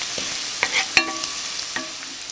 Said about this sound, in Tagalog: mainit na itong ating cooking oil. Lalagay na natin yung ating garlic